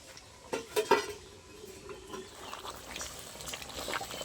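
Chicken kosa being stirred and fried in a pan, with a few spoon-on-pan clinks near the start, then a steady soft sizzle and scraping that continue at moderate level with no talk.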